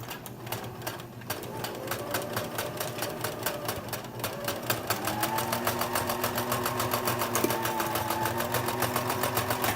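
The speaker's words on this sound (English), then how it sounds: "zigzag stitch on my machine. And I'm going to go back and forth with it a couple times to make sure it's good and secure" A sewing machine runs a zigzag stitch back and forth over elastic. It makes a steady, close mechanical clatter with a rapid even rhythm and a faint motor hum underneath.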